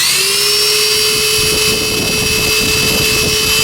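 An electric 3/8-inch quarter right-angle drill with a dull bit bores through 3/4-inch plywood, giving a loud, steady high whine that holds without pause close by.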